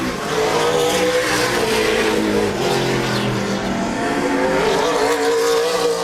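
Race cars on the Laird Raceway oval during a Thursday night event, a loud, steady roar of engines revving past close by, with no talking.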